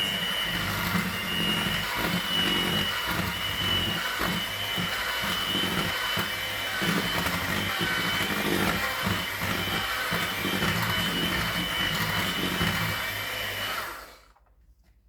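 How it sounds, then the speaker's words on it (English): Electric mixer on its lowest speed beating vanilla cake batter, a continuous close motor whir with a faint rhythmic churning underneath, holding steady for most of the stretch before cutting off abruptly near the end. "I can now turn on my mixer just to the lowest."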